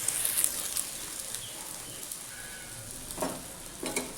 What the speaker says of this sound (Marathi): याला बारीक गॅसवरच शेकू द्यायचं म्हणजे चांगलं खमंग शेकलं जातं.